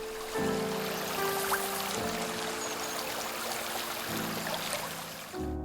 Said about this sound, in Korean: 교회 뒤편으로 흐르는 시냇물.